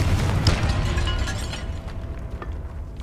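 Confringo fire spell explosion in a wizarding video game: a loud burst right at the start that booms and crackles, then rolls into a fading rumble.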